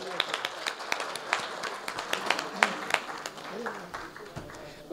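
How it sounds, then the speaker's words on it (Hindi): At a literary evening in Andheri, an audience gives composer Kuldeep Singh a thin, scattered round of hand claps, soft and uneven, with voices murmuring underneath. "तालियों से स्वागत करें।"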